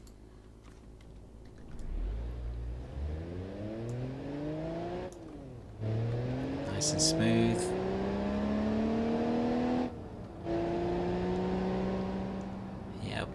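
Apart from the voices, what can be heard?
car accelerating to 60 mph in BeamNG Drive video game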